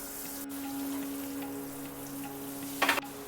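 Oil and butter sizzle in a hot pan over a low flame, a quiet steady crackle with a brief louder burst near the end.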